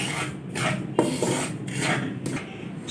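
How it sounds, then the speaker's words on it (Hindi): One cup of dry semolina is stirred and roasted in a wok over the stove, giving a continuous gritty rasping and scraping that repeats in sweeping strokes with a light knock, close and steady, with no talk. "सूजी को अच्छी तरह से भून लेंगे।"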